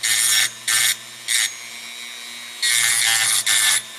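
Carbide burr grinding down a lump on a cracked bronze statue, a rotary tool in short rasping bursts followed by a longer grind, close and loud over a faint motor hum.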